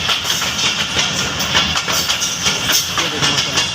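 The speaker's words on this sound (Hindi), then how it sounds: "जैकोबाद में ट्रेन जा रही है।" A train moves past a clean station in Jacobabad, Sindh, making a steady rumble with rhythmic clickety-clack wheel beats and a hissing wash throughout. It sounds close and fairly loud, with no clear speech.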